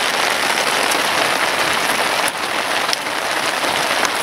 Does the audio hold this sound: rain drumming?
yes